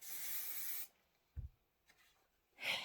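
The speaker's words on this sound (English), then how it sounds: "I'm going to spray this, my background fabric on the shape flex side." A steady hiss of an aerosol spray can on background fabric lasting under a second, then quiet handling noises, and a second short spray burst at the end.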